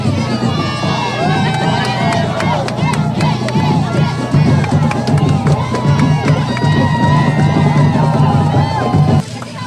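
A crowd at a Honduran independence day parade in the capital cheers and shouts continuously, with whistles and bursts of applause rising over a busy, loud street din.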